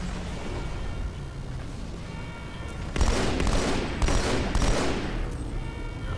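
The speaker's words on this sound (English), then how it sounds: "let's throw the last few grenades down" Grenades going off in the Halo 2 video game, a run of loud broadband blasts arriving in quick succession over steady game background noise, with several overlapping bursts near the end.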